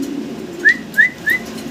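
Fancy pigeons give three short, clear calls in quick succession over a faint low background hum, close by and with no talking.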